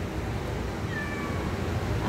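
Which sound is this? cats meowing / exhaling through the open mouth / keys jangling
cats meowing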